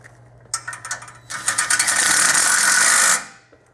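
A ratchet clicks a few times and then spins in a fast continuous whir while tightening 14mm bolts on a Polaris RZR XP 1000 exhaust, close and loud, then stops abruptly.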